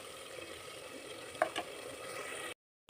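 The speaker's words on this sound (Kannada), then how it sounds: "ಸ್ವಲ್ಪ ಹಸಿ ಸ್ಮೆಲ್ ಹೋಗೋವರೆಗೂ ಫ್ರೈ ಮಾಡ್ಕೋಬೇಕು." Chilli powder and turmeric fry in a pan with a faint, steady hiss and a couple of light spoon taps before the sound cuts off.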